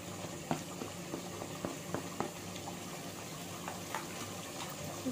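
Chicken korma masala with Kashmiri red chilli frying in a pan, a steady soft sizzle with faint bubbling and a few light clicks of stirring throughout, fairly quiet.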